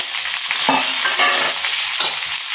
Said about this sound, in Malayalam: വെളുത്തുള്ളി, ഇഞ്ചി മുറിക്കിയത് ഇട്ടിട്ട് നന്നായിട്ട് വഴറ്റുക.